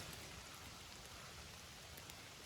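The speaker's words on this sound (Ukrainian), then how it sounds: "Не дуже хоче дощик" Steady rainfall in a forest, pattering softly on surfaces, a continuous even hiss without pauses or voices.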